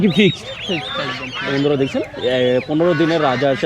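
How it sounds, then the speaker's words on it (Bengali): Ducks and chickens at the Sirajdikhan village poultry market in Bangladesh give loud, close, overlapping quacks and clucks in quick bursts, with market bustle behind them. "আচ্ছা এটা কি হাঁস রাজা হাঁস কতদিনের বাচ্চা এটা"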